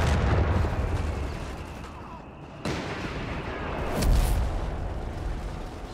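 Battle noise from the World War II strategy game Company of Heroes 3, with infantry firing Bren guns: a dense, steady wash of gunfire and rumbling explosions, with a sharp burst midway and another swell a little later.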